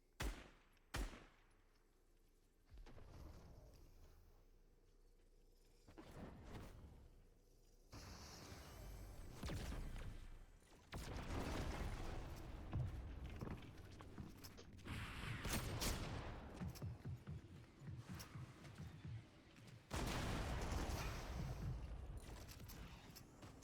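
Rapid bursts of automatic gunfire from a video game, loud and close, coming in repeated volleys with mechanical clicks between them and no talking.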